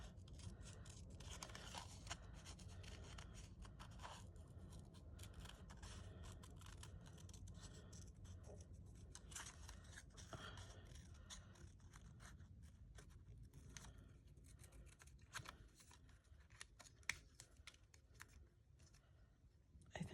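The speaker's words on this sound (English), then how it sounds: "Should I fussy cut this out?" Scissors fussy-cut a paper postcard up close and quietly, with a long run of small snips and scraping paper rustle against a faint background hum.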